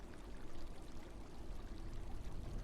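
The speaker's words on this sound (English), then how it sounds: "We've got another green fountain here coming out of the wall, and it's perfect to gather your water from for cooking and drinking." Water pours steadily from a wall fountain in the video game Abiotic Factor, a continuous, dense splashing stream that stays even and close throughout with no voices over it.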